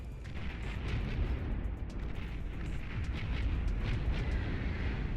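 Dense, continuous rumbling barrage of naval gunfire and explosions from a flagship battle in the real-time strategy game Beyond All Reason, with rapid overlapping booms and crackling impacts sustained throughout.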